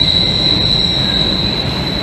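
A Broad Street Line subway train pulls into City Hall station in Philadelphia, its wheels giving a loud, steady high-pitched squeal over a heavy rumble.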